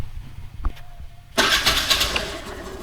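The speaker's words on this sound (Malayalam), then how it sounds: "ഞാൻ ഒന്നുകൂടെ ഏതായാലും വാഹനം ഒന്ന് സ്റ്റാർട്ട് ചെയ്യാം." A vehicle engine cranks and catches with a sudden loud start after a quiet pause, then settles into a steady close idle with a few revs.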